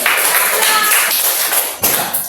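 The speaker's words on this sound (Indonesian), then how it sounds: "Oke, tepuk tangan." A group of people clapping together, a dense burst of hand claps close and loud with voices mixed in, fading slightly toward the end.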